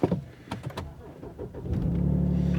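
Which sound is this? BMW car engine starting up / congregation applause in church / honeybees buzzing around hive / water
BMW car engine starting up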